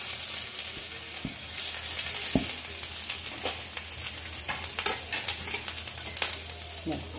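Garlic dropped into hot oil, sizzling and crackling steadily at close range, with sharp pops and stirring scrapes scattered through the sizzle.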